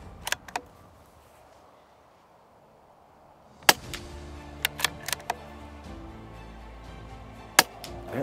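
A CZ 457 rifle fires Norma 40 grain subsonic hollow point rounds outdoors at a range, giving several sharp, fairly quiet reports spaced irregularly, with a couple of faint clicks at the start and one more shot near the end.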